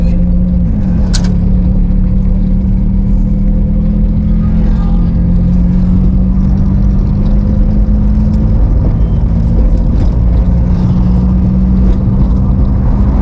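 A manual car driving in second gear on a road, loud steady engine drone and rumble close by, holding a constant pitch with a slight dip and rise midway.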